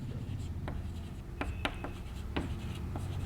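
Chalk or marker strokes writing on a board during a classroom lecture, a handful of short scratchy taps and scrapes close by over steady room noise.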